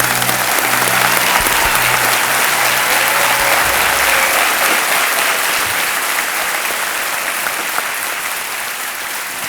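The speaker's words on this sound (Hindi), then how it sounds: "तालियों के साथ हम इनका अभिनंदन करते हैं।" A studio audience at a quiz show applauds a contestant with sustained loud clapping, which thins slightly toward the end with no voices over it.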